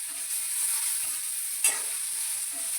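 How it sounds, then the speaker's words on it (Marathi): Okra pieces being stirred and fried in oil for a dhaba-style bhindi bhaji: a steady, moderate sizzle broken by soft scraping stirs, with one brief louder clatter midway and no talking. "भेंडी असं एकसारखी भाजून घ्यायचं, कलर बदलू द्यायचा नाही।"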